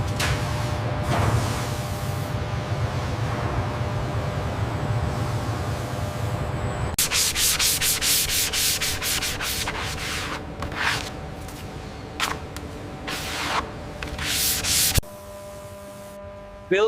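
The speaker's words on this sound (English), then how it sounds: "this robotic arm utilizes delicate ostrich feathers to ensure a flawless finish on" A robotic arm with ostrich feathers polishing a Ferrari supercar body on a factory line, heard as steady soft rubbing hiss with low machine hum, shifting midway to brighter rhythmic swishing and whirring, no voices.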